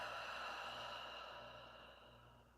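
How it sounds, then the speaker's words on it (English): A single long exhale through the mouth during guided meditation breathing, a soft airy breath close to the microphone that slowly fades over a few seconds. "let's take a big inhale through the nose and exhale through the mouth"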